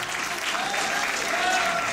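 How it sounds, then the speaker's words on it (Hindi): A full house applauds in a legislative chamber in honour of the poet Gopal Das Neeraj, with dense, steady clapping that fills the room from start to finish and no voices over it. "तालियां बजाए"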